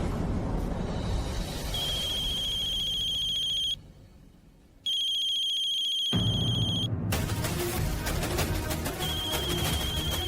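A phone rings unanswered indoors in a Hindi drama scene, its shrill electronic tone repeating in bursts and briefly cutting off before ringing again, with no voices over it.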